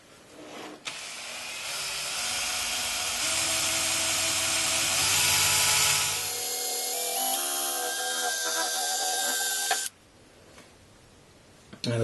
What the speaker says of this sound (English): Now the buffing wheel just sprays stuff everywhere.